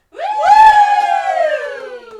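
A single loud shout from a Halloween show audience, one sustained rising-then-falling cheer lasting about two seconds, close and alone with no talk.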